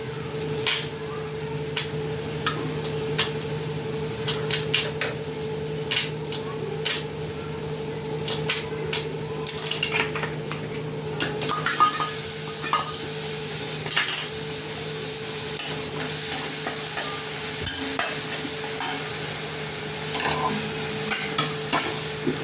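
Chopped tomato hits a dal tempering and sizzles steadily, with repeated clicks and scrapes of a spoon stirring against the pan and a brighter burst of frying partway through.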